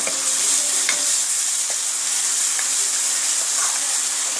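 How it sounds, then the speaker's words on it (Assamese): Onion paste added to a hot pan for fish curry sizzles loudly and evenly up close, a dense continuous frying hiss with faint stirring knocks beneath it. "তাৰপিছত আমি যে বনাইছিলোঁ পিঁয়াজৰ পেষ্টটো ইয়াত দি দিব এতিয়া"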